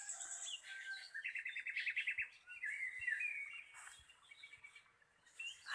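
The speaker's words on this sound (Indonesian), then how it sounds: "Masih banyak burung-burung guys." Wild birds chirp and trill near Selomangleng cave, quick high tweets and warbling phrases overlapping in a lively, fairly close chorus with faint background ambience.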